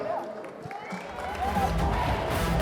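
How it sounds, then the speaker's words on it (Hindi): A crowd cheers and applauds at the Shehzada trailer launch with Kartik Aaryan and Kriti Sanon, the noise building in the second half beneath an amplified host's voice. "जोरदार तालियां"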